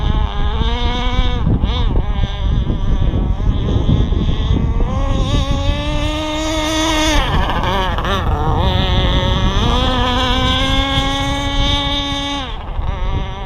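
An AquaCraft Top Speed 3 RC model boat with a K&B 7.5cc nitro engine, running rich with a small prop, screams close by with a loud, high buzzing whine whose pitch rises and dips as it revs, with wind noise.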